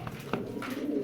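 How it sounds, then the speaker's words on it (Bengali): A pomegranate-eyed female racing pigeon gives a short, soft cooing burble nearby, with a couple of faint rustles over a quiet hum. "এটা কিন্তু আনার চোখের কবুতর"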